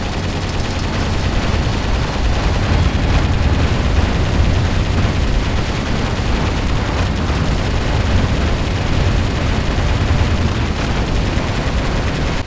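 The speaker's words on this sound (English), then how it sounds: "This Gatling gun is just destroying all of their shots before they can hit me" A Gatling gun roars in continuous rapid fire in the Metal Wolf Chaos XD video game, a dense, loud, unbroken stream of shots and booms with no gaps for the full length.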